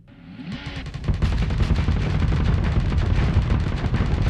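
Spaceship weapons in the Starsector game fire at an enemy ship, a dense rapid stream of booming shots and bursts building quickly and then sustained loud and continuous, with no talking.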